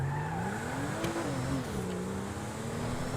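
A car engine in the video game GTA Online revs, its pitch rising and then falling in a steady drone, with a faint squeal of tyres.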